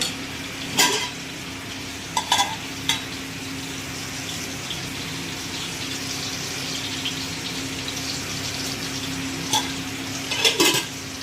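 Pointed gourd (potol) fries in a pan with a steady, moderate sizzle throughout, broken by a few brief sharp clatters and scrapes of stirring or utensils against the pan.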